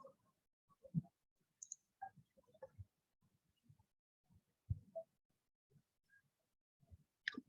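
Mouse clicks on a filter icon in an Excel spreadsheet, a few sharp, quiet taps scattered among soft desk and handling noises in a silent room, heard alone.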